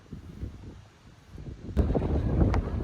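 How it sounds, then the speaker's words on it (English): Wind gusts buffet the microphone with low, rumbling roars that swell louder toward the end, with no talking. "Sorry, it's a little windy"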